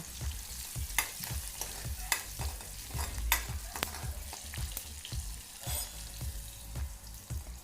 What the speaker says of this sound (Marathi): अर्धा चमचा हळद टाकून घ्यायची आहे त्याला चांगले परतून घ्यायचे आहे